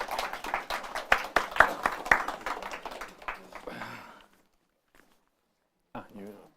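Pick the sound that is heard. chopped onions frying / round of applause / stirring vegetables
round of applause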